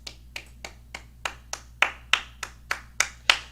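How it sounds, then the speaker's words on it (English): A single pair of hands claps about a dozen times at a steady, slightly quickening pace, each clap sharp and close, growing a little louder toward the end, alone without voices. "Let me hear the best round of applause for Jeff Bezos."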